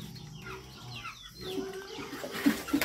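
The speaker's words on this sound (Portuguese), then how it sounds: "O galo famoso." Rooster clucking at close range on a small farm, a few short throaty clucks breaking through quiet background noise, the last two sharper and louder.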